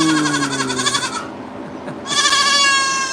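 Goat bleating at an animal auction: two long, loud, wavering bleats close by, separated by a short gap of quieter background noise.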